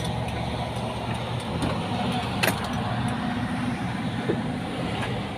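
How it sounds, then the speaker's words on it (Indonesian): A car comes down a mountain road, and its engine and tyres make a continuous, moderately loud rumble and hiss. The sound is close and fairly even, with a brief sharper swell midway. "Ada mobil lagi turun gunung."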